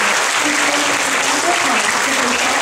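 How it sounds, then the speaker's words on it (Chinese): Warm, sustained applause from an audience fills the hall as Professor Jeremy Friedman is welcomed to the stage, with a voice faintly audible beneath the clapping. "请以热烈的掌声欢迎 Jeremy Friedman 教授上台。"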